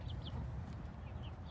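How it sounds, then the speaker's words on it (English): Wyandotte and black copper Maran chickens cluck softly in a backyard coop, a few brief calls rising over steady low background rumble, with no talking. "That gray chicken's a Wyandotte, and those two black ones are black copper Morans."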